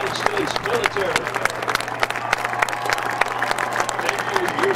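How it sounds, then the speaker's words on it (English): Applause from a stadium crowd at the Armed Forces Bowl, honoring new members of the US military: dense, sustained clapping with crowd murmur and a low steady hum underneath, a voice over the speakers faintly audible. "a big round of applause for the newest members of our United States military."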